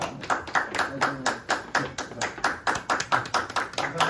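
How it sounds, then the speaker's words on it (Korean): Rhythmic clapping, a quick train of sharp claps from a small group at a scholarship award ceremony, fairly close and steady throughout. "그럼 다시 한번 큰 박수 부탁드리겠습니다"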